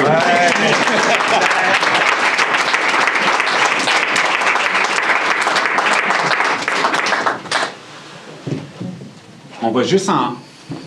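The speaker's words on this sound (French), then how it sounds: "Vous autres aussi, vous pouvez applaudir." Audience applause at a community presentation on services for young caregivers: dense, loud clapping from a crowd that holds steady for about seven seconds, then thins into scattered claps and murmuring voices.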